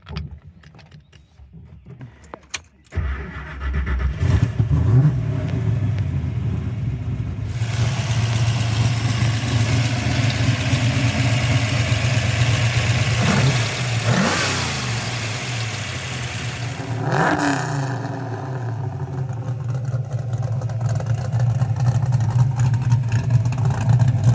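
A 1968 Ford Mustang GT V8 cranks and fires up, then settles into a loud, rumbling idle with a couple of rising revs blipping over the steady burble, close up.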